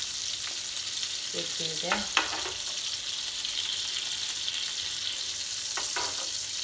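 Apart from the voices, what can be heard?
sardines frying in a pan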